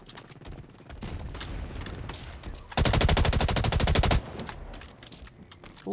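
Automatic gunfire in the first-person shooter Blacklight Retribution, several dense bursts with one long, loud rapid-fire stretch in the middle, up close over a steady game background with no voices.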